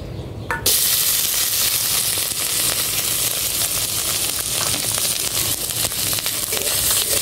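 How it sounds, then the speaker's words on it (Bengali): Meat seasoned with chili powder, black pepper and ginger-garlic paste hits hot oil in a wok on a clay stove, bursting into a loud, steady sizzle that continues after a brief quiet start. "কড়াইতে তেল দিয়ে দিলাম।"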